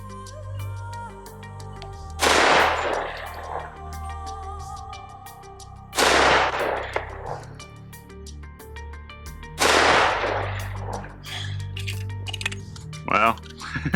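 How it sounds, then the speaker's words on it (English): Three loud pistol shots from a Wilson CQB 1911, firing Critical Duty +P ammunition at a target 25 yards downrange, spaced several seconds apart, each a sharp crack with a decaying echo. "First up, we'll shoot some critical duty. This is the plus P version of it."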